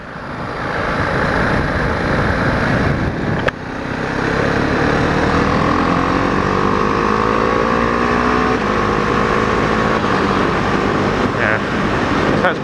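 A Husqvarna Vitpilen 701 motorcycle roars steadily while being ridden, its engine note rising and sustaining loudly under heavy wind rush, with a brief dip in the middle.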